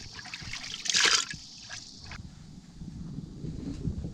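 Water is poured into a pond as a pet gar is released from a tank, giving a brief gushing splash that gives way to steady trickling and sloshing. The sound is close and moderate in level, with no talk.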